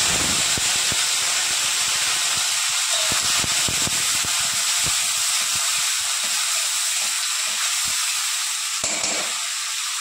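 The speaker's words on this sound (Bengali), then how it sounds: "এবার দিয়ে দেবো আদা জিরা বাটা আর টমেটো কুচি।" Ginger-cumin paste and chopped tomato hitting hot oil for a vegetarian potato and taro curry, giving a steady loud hiss and sizzle with scattered crackles and pops throughout, no voices.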